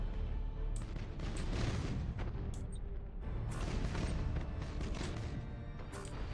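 Nova Cannon fire in the space strategy game Battlefleet Gothic: Armada, heard as faint, low rumbling booms and artillery-like blasts layered over a steady dense background.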